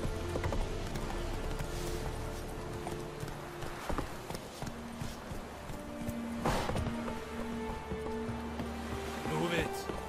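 A horse gallops in The Witcher 3, a rapid rhythmic clip-clop of hooves running continuously under background music and ambient game sound, with a few louder thumps along the way.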